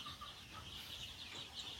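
Native laying hens (ayam kampung) in a small backyard egg farm coop cluck softly, scattered calls rising over a faint, continuous background hiss with no talking.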